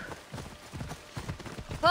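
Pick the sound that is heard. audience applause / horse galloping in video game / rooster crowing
horse galloping in video game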